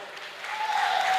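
A church congregation breaking into sustained applause, a steady wash of clapping that swells slightly louder toward the end, with a faint voice underneath.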